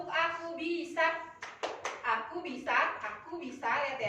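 A teacher leads children in the tepuk aku bisa clapping game, clusters of crisp hand claps landing between sung and spoken phrases, voices heard across the whole stretch.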